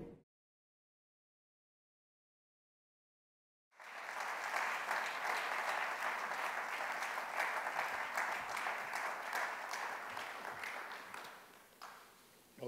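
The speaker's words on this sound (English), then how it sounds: "thank you for the warm introductions and the applause" After several seconds of silence, an audience breaks into sustained applause at an evening lecture in Geneva, a dense steady clapping that fades out near the end.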